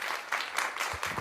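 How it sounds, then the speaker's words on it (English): An indoor audience at a live event applauds, a dense wash of many hands clapping at once, loud and close, with a few voices mixed in. "can we get some applause for everybody in the building?"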